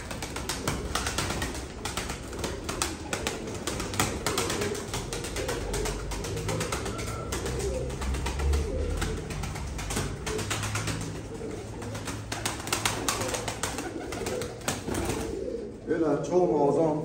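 Pigeons coo softly amid a busy clatter of wings and rustling, with scattered mechanical clicking, fairly close and continuous.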